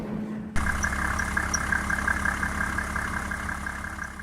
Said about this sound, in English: Few sounds in the car industry are quite as distinctive as an old Mercedes-Benz diesel at idle.